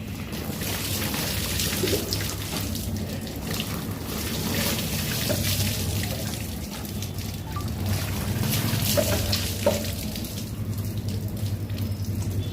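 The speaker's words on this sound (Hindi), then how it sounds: "इस तरीके से आप पानी बहाएंगे, पूरे बदन पे आपको पानी बहाना है 3 मरतबा।" Steady splashing and trickling water is poured continuously over a body at close range, with faint background hiss and no voices.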